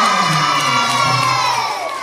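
Primary schoolchildren at a school closing and award ceremony cheer and shout together loudly in a dense, sustained crowd roar that holds steady, then eases slightly toward the end.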